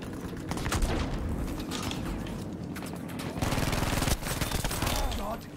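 Rapid automatic gunfire from the Type 2a submachine gun in Battlefield V, dense sustained bursts with short pauses between them, loud and close in a busy game mix.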